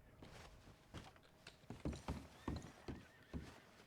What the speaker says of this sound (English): I hear the thunder of hoof prints.